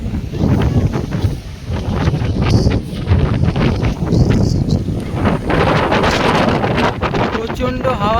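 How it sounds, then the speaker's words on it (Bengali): Strong wind roars and buffets the microphone at Digha beach with big sea waves, making a loud, constant rushing noise with surf churning underneath. "প্রচণ্ড হাওয়া আর প্রচণ্ড ঢেউ।"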